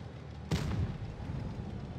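One tank gun fires in World of Tanks Blitz, a single booming shot with a short rumbling tail, heard at moderate loudness against quiet background noise.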